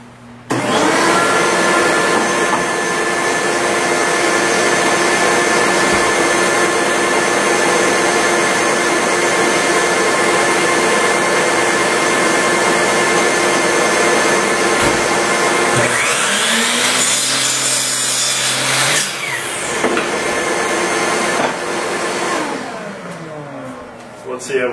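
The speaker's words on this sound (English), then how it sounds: "So I'm just going to hit it on the chop saw, and we'll see what we get." A chop saw cuts wood with a loud, steady whining motor roar that runs for about fifteen seconds, then the blade bites and winds down in a brief descending whir before a final clunk.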